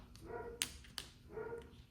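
A dog gives two soft, muffled barks with short whimpering yips between them, faint and somewhat distant.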